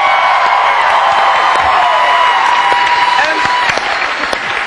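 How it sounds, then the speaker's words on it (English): A large studio audience at Graham Norton's Big Chat for Comic Relief gives Richard Curtis a loud, sustained round of applause with cheers and whoops, a dense steady roar that carries on without a break. "Can we have an extra round of applause for Richard Curtis?"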